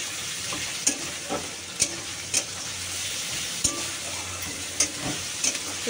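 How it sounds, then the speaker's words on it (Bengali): Minced meat for ghugni frying in a pan, a soft continuous sizzle punctuated by sharp spatula taps against the pan every second or so, heard up close without speech. "এবার সুন্দর করে এটাকে আমি কষবো"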